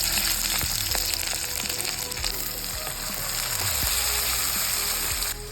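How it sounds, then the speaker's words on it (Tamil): Mustard seeds, dried red chilies and shallots tempering in hot oil, a steady dense sizzle with scattered pops and light utensil clicks, continuing evenly throughout. "இப்போ நம்ம எண்ணெய் ஊற்றிக்கலாம் தாளிக்கிறதுக்கு. இப்போ கடுகு போட்டுக்கலாம். இப்போ வரமிளகா போட்டுக்கலாம்."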